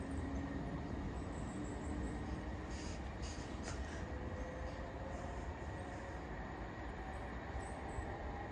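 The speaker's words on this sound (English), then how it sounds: "Departing out now is the 1001 Scotrail service from Cumbernauld to Dalmuir." Scotrail electric train from Cumbernauld to Dalmuir, unit 318259, pulling out of Blantyre station: a steady rumbling roar of wheels on track with a faint squeal and brief higher clatters, fairly distant and continuous.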